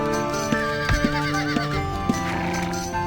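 A flaming nightmare horse in the Ultima Online Ruins & Riches game gives a loud, clear whinny, with harmonic neighing calls and a few sharp hoof-like clicks over a steady game backdrop.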